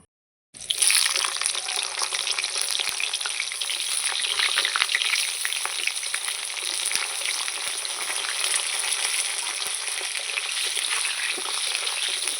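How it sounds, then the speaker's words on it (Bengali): Potatoes hitting hot oil in a pan, starting abruptly after a short silence and settling into a loud, dense, continuous crackling sizzle heard up close with no talking. "আলুটা লাল লাল করে এবার আমি ভেজে নেব"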